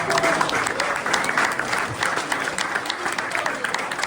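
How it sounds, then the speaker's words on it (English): A tribute audience at a golf tournament applauds, dense steady clapping from many hands filling the room throughout. "let's just give everybody here a round of applause"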